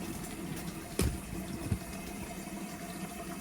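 Hot water runs through the line of a Rheem tankless water heater during maintenance, a quiet, steady trickling flow with two brief low knocks partway through.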